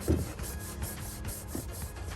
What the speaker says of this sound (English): To clean the pedal, I'm just using a little bit of Simple Green all-in-one cleaner.